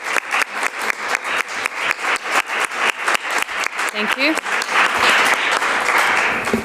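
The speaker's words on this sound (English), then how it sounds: "I think our panelists have earned a round of applause" Audience at a panel discussion on disaster risk inequality and women's leadership in recovery applauds the panelists with steady, evenly pulsing claps, followed by a short spoken thanks as the clapping thins out.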